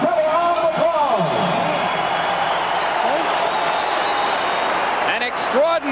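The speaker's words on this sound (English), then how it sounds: "The entire arena on its feet, cheering, stomping, and applauding both fighters." A boxing arena crowd applauds and cheers between the final rounds of a heavyweight fight, a dense continuous roar of clapping and voices held at a steady loud level, with a voice speaking over it.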